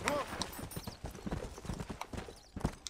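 Rhythmic clip-clop of horse hooves with a brief whinny, a talking voice running over the steady trotting beat, in the video game Red Dead Redemption.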